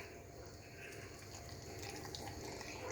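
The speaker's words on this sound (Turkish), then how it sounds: "çaydanlıkta kaynattığımız sıcak suyumuzu ilave ediyoruz." Hot water from a kettle pours steadily into jars of German-style cucumber pickles, a faint, continuous splashing stream with no voices.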